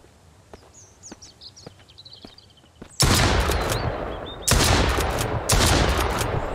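Two bursts of rapid gunfire in the Mist Survival video game, shooting at a bandit, with the second volley cutting in about a second after the first ends. Before the shots come faint scattered clicks and footsteps.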